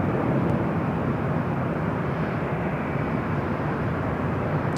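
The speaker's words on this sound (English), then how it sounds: "Arrival here on the north side is JetBlue flight 223 coming up from JFK. It's an A321 in Neo." A JetBlue Airbus A321neo arriving from JFK produces a continuous, even jet engine roar at moderate level, steady throughout with no talking.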